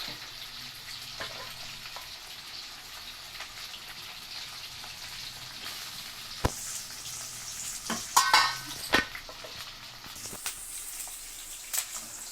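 Onions and green chillies fry in a pan with a steady soft sizzle, broken by louder clatter and stirring scrapes near the end. No voices are heard.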